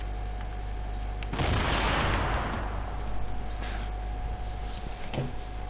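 Remote explosives detonate in a video game with a sudden loud broadband blast, then a long rumbling, crackling decay over several seconds, and a smaller burst near the end, heard over a steady game background hum.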